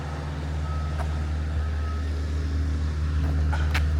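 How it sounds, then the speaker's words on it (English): A garbage truck collecting trash in town, Provincetown, sounds steady reversing beeps over a low, constant diesel engine rumble, heard from a moderate distance outdoors. "And the trash is being picked up in town."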